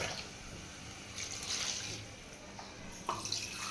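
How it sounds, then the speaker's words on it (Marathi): Water poured and stirred into a pot of goat head curry, soft splashing and trickling with a couple of brief brighter splashes, fairly quiet against faint kitchen background. "आता हे पाणी आपण मिक्स करतोय"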